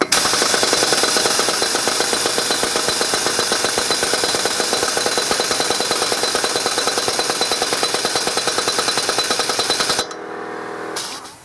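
A Hyper Tough 1/2-inch air impact wrench hammers at lug nuts torqued to 80 pound-feet, a loud, continuous rapid rattling that runs about ten seconds and then cuts off, leaving a faint air hiss.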